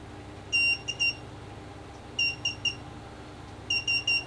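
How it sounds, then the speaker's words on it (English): Aquarium water alarm set off when its two sensing pins touch water, sounding three bursts of shrill electronic beeping, each a quick run of three beeps, with short pauses between bursts over a quiet background. "that's me dipping it in and the alarm sounding"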